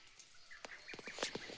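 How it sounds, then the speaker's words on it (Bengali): Several short bird calls ring out on a quiet, cold, rainy morning on a hill road toward Darjeeling, a few clear chirps and quacky notes rising over a soft, hushed background. "পাখির আওয়াজ, একটা নির্জন সকাল,"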